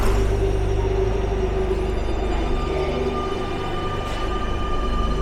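A Barcelona metro train rumbles loudly nearby with a low, steady roar and a faint high whine, gradually easing as it pulls away from the station.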